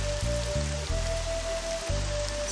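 Steady rain falls across a surface in the video game Die Reise ins All, a continuous close wash of patter with low music or tones pulsing underneath.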